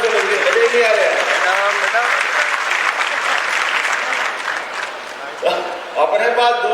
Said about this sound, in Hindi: जरा ताली बजाओ तो दिल से बजाओ, मन से ज्यादा जोर से बजाइए